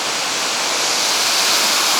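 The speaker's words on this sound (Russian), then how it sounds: "То есть вот этот водопад будет вообще бешеный" A mountain river waterfall in Chichkan, Kyrgyzstan roars as a loud, close, unbroken wash of rushing water, steady and full with no voices over it.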